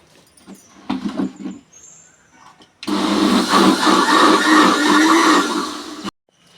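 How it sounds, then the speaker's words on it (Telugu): A mixer grinder blends muskmelon with sugar and water: a few soft clinks and handling sounds, then a loud, steady whirring roar for about three seconds that cuts off abruptly. "ఇప్పుడైతే మిక్సీ పట్టేసుకుందాము."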